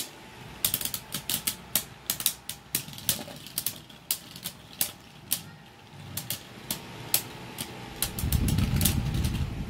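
Beyblade spinning tops launched into a stadium and battling, a rapid series of sharp metallic clacks and clicks as the tops collide, ending in a louder rattling scrape, with no talk.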